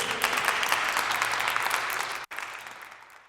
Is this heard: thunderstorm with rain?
no